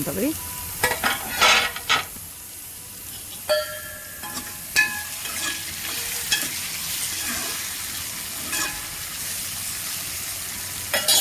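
Okra frying in a pan for a curry, a continuous close sizzle broken by repeated scraping stirs and occasional clinks of a utensil against the pan, fairly loud throughout with no talking.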